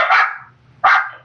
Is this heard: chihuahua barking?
yes